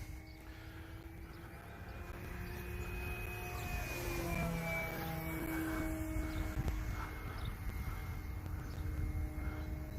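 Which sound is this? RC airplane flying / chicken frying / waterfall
RC airplane flying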